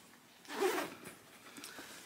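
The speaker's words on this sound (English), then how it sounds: "So we got our zipper on the top." A zipper slides once along the top of a crocheted market bag, a short close rasp lasting about half a second, followed by faint handling noises.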